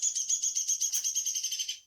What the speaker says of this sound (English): Maybe it's a sound from a bird over here.